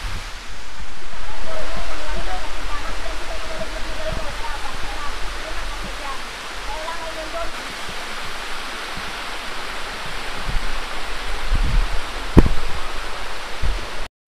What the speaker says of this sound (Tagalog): At malakas yung pagbagsak ng tubig dyan.